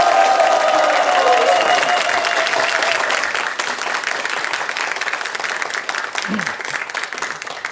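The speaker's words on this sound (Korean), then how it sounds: "따뜻한 격려의 박수 좀 부탁드릴까요?" A studio audience of students and parents claps warmly for two candidates at a televised education superintendent election debate in Gangwon, Korea. The applause is loud and sustained, with a tone or voice fading out early.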